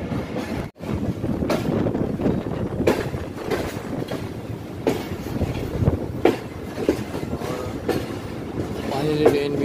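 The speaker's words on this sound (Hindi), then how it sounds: "फाइनली ट्रेन भी हमारी कराची कैंट पहुंच चुकी है" Passenger train coaches rolling and braking into Karachi Cantonment station in Pakistan, a steady close rumble and clatter of wheels with some wind noise throughout.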